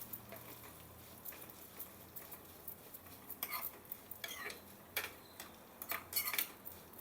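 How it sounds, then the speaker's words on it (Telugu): Vermicelli stirred and roasted dry in a pan for payasam, with scattered scraping and clinking taps of a spoon against metal, louder bursts toward the end, fairly close and quiet with no talk. "సేమియా కూడా బాగా వేపుదాం దోరగా"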